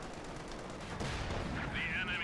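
An MG42 machine gun fires in Company of Heroes 2 amid dense battle noise, with a steady rattle of shots and booms under a busy mix.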